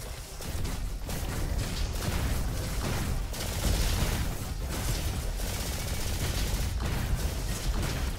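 The Valkyrie rifle fires in the video game Roboquest, dense continuous bursts of gunfire with bright crackling blasts and explosive thumps, loud and unbroken across the whole stretch.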